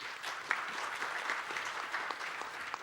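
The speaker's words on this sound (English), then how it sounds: "A round of applause, please." Audience applause at the FutureChina Global Forum 2025 following a panelist introduction, a steady wash of many hands clapping together, fairly loud and continuous.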